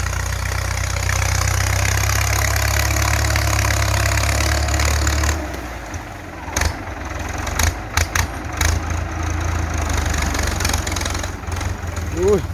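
A powerful Ford farm tractor engine runs loud and steady for about five seconds while clearing wood from a field, then drops to a lower idle with knocks and clunks, with people talking nearby.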